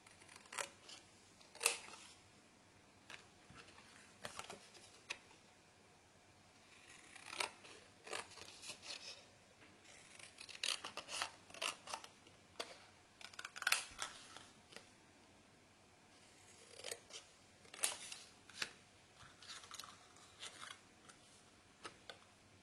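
Scissors trim the white border from cards for a photo scrapbook album, sounding as quiet, close snips in irregular bursts with pauses between them.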